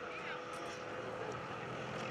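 A 1911 Curtiss Pusher biplane's propeller engine during takeoff at an airshow, a continuous buzzing drone with a broad rough rumble, steady and fairly distant, with a voice speaking over it.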